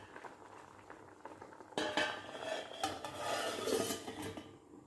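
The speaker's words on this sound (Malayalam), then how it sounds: "നന്നായി ഒന്ന് ഇളക്കിടാം. സിമ്മിലാക്കിയിട്ട് നമുക്കിനി വീണ്ടും മൂടി വയ്ക്കാം." Prawns and colocasia curry stirred in a pan with a utensil, a scraping, rasping stir that grows louder halfway through over a soft simmer, close by with no talking.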